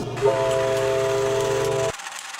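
A loud, sustained train horn blares with a steady multi-tone chord for nearly two seconds, then cuts off, leaving faint background noise.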